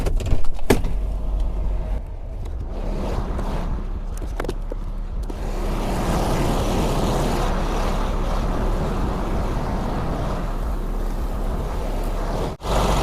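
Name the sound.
truck engine cranking and starting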